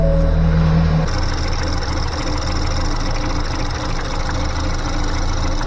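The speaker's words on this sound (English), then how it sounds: "I think I see it misfiring right now." A replacement engine in a 2018 Ford Escape idles with a loud, rough, uneven rumble and a faint knock from a misfire, steady and close throughout with no talking.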